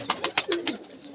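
Pigeons cooing up close: a quick run of five soft, throaty coos at an even pace, then a pause and one more, fairly quiet with no talking.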